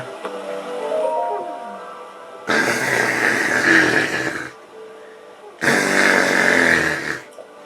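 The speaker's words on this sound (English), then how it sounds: "That's how she snores." A character in Zelda Breath of the Wild snores in two long, loud, rasping breaths separated by a pause, with soft game sounds underneath.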